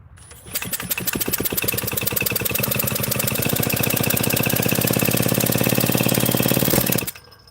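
A chainsaw that has been backfiring through the carburetor and muffler starts up after priming and runs at a loud, steady, buzzing idle for about six seconds, close by with no talk, then cuts off abruptly.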